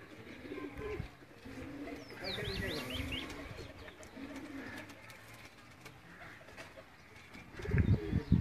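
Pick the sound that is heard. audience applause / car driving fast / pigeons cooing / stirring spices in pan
pigeons cooing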